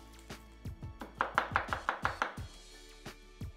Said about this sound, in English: We've got a clove of garlic. Just peel that off and roughly chop it.